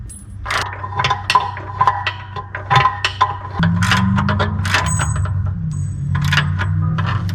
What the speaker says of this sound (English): I'm gonna rotate it and then tighten the bolt there